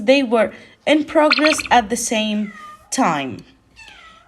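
House cat meowing loudly and repeatedly in a series of drawn-out, wavering cries close by, with a person's speech briefly at the start.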